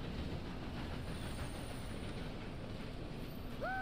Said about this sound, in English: For a moment, I thought you were gonna let that train ride right over us.